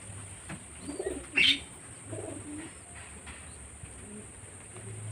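Madras pigeons in a home loft give soft low cooing calls, a few short murmured bursts over a quiet background with one brief sharper chirp.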